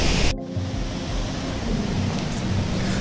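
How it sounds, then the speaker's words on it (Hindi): Handawada waterfall in Narayanpur, Chhattisgarh, roars as a steady, dense rush of falling water heard from the top of the falls, loud and continuous after a brief opening bump. "हम वाटरफॉल के टॉप पे हैं"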